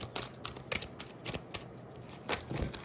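A deck of tarot cards shuffled by hand during a reading, soft riffling flutters in quick irregular bursts, close and quiet with no talking.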